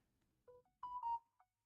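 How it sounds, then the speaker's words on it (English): A phone ringtone chirps in short tonal bursts, a few quick electronic notes close by and fairly quiet, with no talking. "phone blowing up like a motherfucker"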